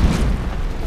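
Barsboldia's built-in cannon fires in the video game Ark, a loud, deep booming blast that rumbles steadily through the whole second with no talking.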